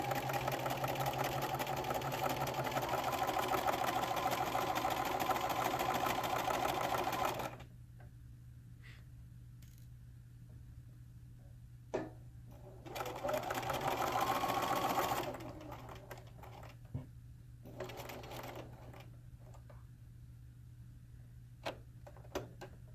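A sewing machine stitches an apron in one steady, fast run close by, then goes quiet except for a shorter second burst and scattered small clicks.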